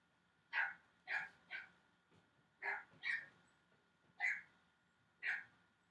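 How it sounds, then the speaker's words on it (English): A puppy gives a series of short, high yipping barks, about eight separate quick barks spaced irregularly, fairly faint and alone in an otherwise quiet room. "that's my puppy"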